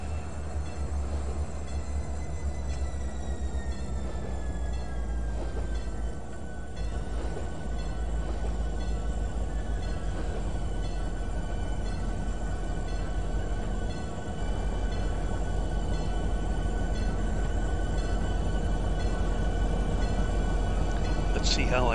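A train rumbles slowly as it backs up in Trainz 2019, with a steady low drone and faint metallic squeal over the rails, while a voice talks over it.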